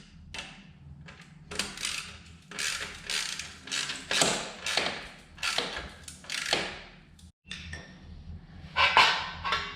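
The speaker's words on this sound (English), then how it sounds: "Tighten our muffler screw here." Mechanical ratcheting and creaking clicks come in short bursts while a muffler screw is tightened on a BMW R1200RT motorcycle in a workshop, close and moderately loud, with brief pauses between strokes.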